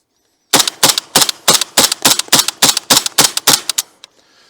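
A rapid string of about fourteen loud, sharp gunshots fired in quick succession from a firearm during a function test after loading a magazine and chambering a round, evenly spaced, followed by a faint clatter as it stops.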